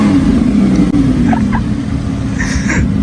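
A Lamborghini Huracan in Strada mode idles loudly with a steady low engine drone, a faint tonal rise hinting at light revving, continuous throughout.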